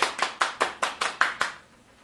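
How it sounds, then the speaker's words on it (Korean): Children clap at a church puppet show, about eight distinct claps in a quick, slightly uneven rhythm, close and fairly crisp, trailing off into quiet. "박수 쳐주세요. 박수."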